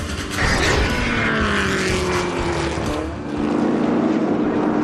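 Historic race cars roar past on a racetrack at the Monterey Historics, loud engines rising and falling as they pass, the pitch sweeping down with a Doppler drop, one car fading before another swells in.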